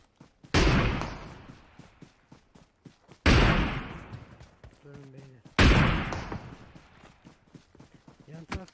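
Gunfire in PUBG Mobile's sniper mode: three loud, sharp shots a few seconds apart, each with a trailing decay, and voices talking faintly in between.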